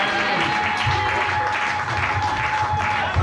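A church congregation applauds continuously, a dense steady wash of clapping filling the room, with a faint sustained tone underneath.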